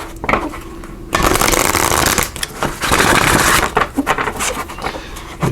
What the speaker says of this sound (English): We're also going to pull a card here from the Native Spirit Oracle cards.